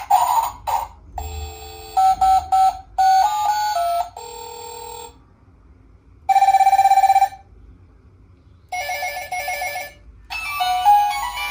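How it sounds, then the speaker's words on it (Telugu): A toy learning pad plays a run of tinny electronic ringtones, including iPhone and old Nokia tunes, as short bursts of beeping melody separated by brief pauses, loud and close. "4 రింగ్ టోన్స్ వచ్చాయి. 5 ఐఫోన్ రింగ్ టోన్ కూడా ఉంది దీంట్లో. పాత నోకియాది."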